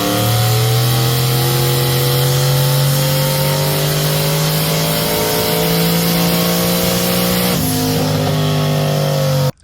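A turbocharged Chevrolet El Camino engine revs hard on a dyno. The loud engine note climbs steadily, drops sharply near the end, then cuts off abruptly.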